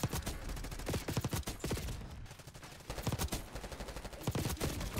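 Rapid automatic gunfire in the Black Ops 6 beta multiplayer, dense bursts of sharp shots with a short pause midway before the firing resumes in steady, loud volleys.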